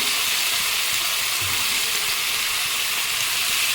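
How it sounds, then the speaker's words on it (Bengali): Mixed vegetables for a Bengali mixed veg sabji frying in hot spiced oil with onion, ginger and garlic, a loud continuous hissing sizzle that stays steady throughout. "এবারে কিন্তু সমস্ত সবজিগুলোকে একসাথে ঢেলে দিচ্ছি।"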